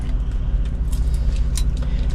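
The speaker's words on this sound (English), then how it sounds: "Yep, so here's the keys." Keys to a returned semi truck jingle in hand, light metallic clinks scattered over a steady low engine rumble from idling vehicles nearby.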